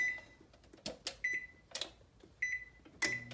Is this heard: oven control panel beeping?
yes